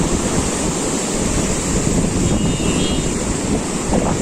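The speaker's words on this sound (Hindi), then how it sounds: "दरियाए कुन्हार बहुत तेज़ी के साथ और बहुत ताकत के साथ यहाँ पर बहता है।" Fast, powerful Kunhar river on the road to Naran, a dense, unbroken roar of rushing water close by with wind buffeting the microphone and no voices.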